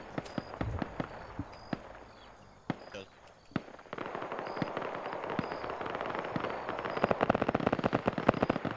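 Gunfire in a military video game comes as sharp, scattered bursts, fairly close, then dense rapid popping, with people talking over it.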